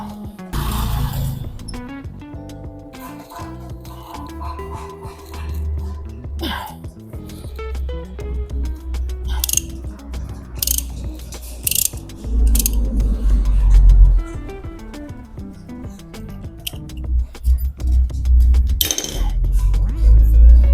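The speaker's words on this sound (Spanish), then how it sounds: "Ya nada más quitamos tornillos, estos 4 tornillos y sale todo completo." Screws are worked loose and removed during a disassembly, with creaking mechanical turns, small metallic clinks and handling clatter in close, uneven bursts, plus a few brief louder knocks.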